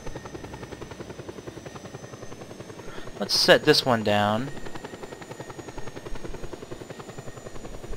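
Military helicopter in Just Cause 2 whirring with rotor chop throughout, joined by a loud burst of weapon fire or explosions midway, with someone talking over it.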